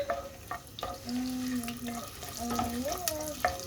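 Ginger dropped into a pot for Filipino chicken tinola, soft sizzling and frying with light clinks and stirring, fairly quiet and close.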